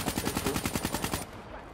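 Rapid automatic gunfire in Call of Duty Black Ops III, a loud close string of about a dozen evenly spaced shots over a second before cutting off into quieter game ambience.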